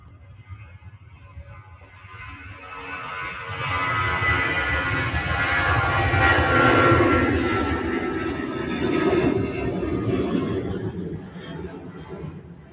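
A departing airliner climbs out from Manchester Airport bound for Palma de Mallorca, its broad jet roar swelling to a loud peak in the middle, holding, then easing slightly, heard from a distance and continuous throughout.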